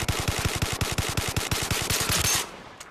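Rapid automatic gunfire from the shooter game Zero Caliber: Reloaded, a fast, even burst of loud, punchy shots lasting over two seconds, then stopping abruptly with a faint click after.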